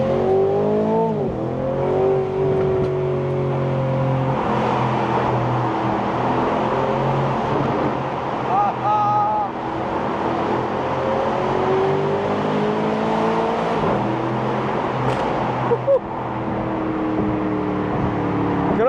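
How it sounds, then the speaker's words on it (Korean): A handmade Aston Martin roadster with its exhaust at the loudest setting gives a loud, continuous engine drone that rises and falls in pitch through shifts, with occasional pops and crackles. "이걸 누르게 되면 비로소 배기음이 3단계 최종 버전으로 커지게 됩니다."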